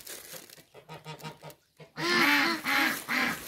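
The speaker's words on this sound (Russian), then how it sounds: "Утки, не ржите." Ducks quack nearby, first a run of short rhythmic quacks, then louder, harsher drawn-out honking calls from the flock, with no talking over them.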